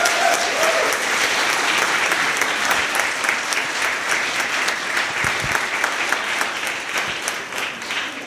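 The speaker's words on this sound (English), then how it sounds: "Please give a big round of applause for the sponsors and supporters that have made Access Code possible" Audience applause at a Coalition for Queens Access Code demo day event honoring sponsors and supporters, a steady, dense wash of many hands clapping that holds loud throughout, with no talking.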